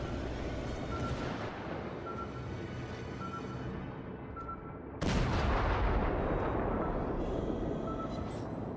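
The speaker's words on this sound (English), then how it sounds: "we see the lieutenant take aim and fire armor-piercing shells at an enemy destroyer" Armor-piercing shells fired from an American Wickes-class destroyer in the World of Warships video game, a continuous rumble of gunfire with one sudden loud heavy blast midway whose boom lingers over the steady din.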